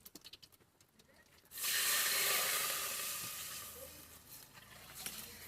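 Cumin seeds dropped into hot oil in a pot give a sudden loud sizzle that bursts up and then slowly fades into a softer hiss. A few faint bumps come before it starts.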